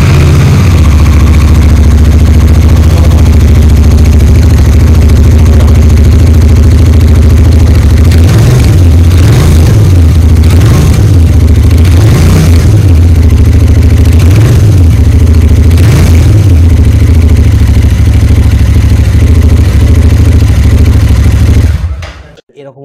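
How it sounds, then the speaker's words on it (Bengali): A Royal Enfield Bear 650 engine idles steadily and loud through a 2-in-1 exhaust where two header pipes merge into one, with a run of sharp throttle blips rising and falling midway before the sound cuts off. "2-in-1 একটা এক্সস্ট, ইঞ্জিন থেকে দুটো পাইপ বেরিয়েছে একসঙ্গে মিশে এইটা তৈরি করছে। এর সাউন্ডটা"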